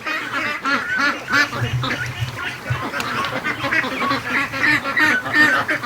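A flock of free-range ducks quacking and honking continuously, close by, with overlapping calls throughout as they rush out of their pen in the morning.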